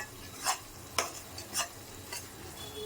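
Dry semolina being stirred and roasted in a pan, heard as a few distinct scraping strokes of a spoon against the pan at a slow, uneven rhythm over quiet background, with no talking.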